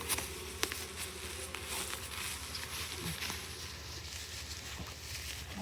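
Honeybees from a swarmed hive buzz as a dense, steady hum for the whole stretch, with a few faint taps and knocks, moderately quiet and close, no talking.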